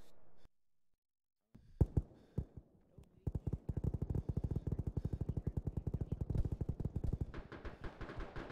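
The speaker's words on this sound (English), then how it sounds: "Please stop shooting me." Gunfire in the military video game ArmA during a ShackTac session, a few scattered shots and then sustained rapid automatic bursts, close and punchy, going on for several seconds with voices at the start.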